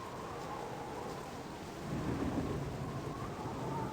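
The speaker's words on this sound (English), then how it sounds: "It's raining. It's storming. There's lightning." A rainy thunderstorm in the Baldur's Gate video game gives a steady hiss of rain under a low, rolling rumble of thunder that swells midway through and stays moderately quiet, with no voices.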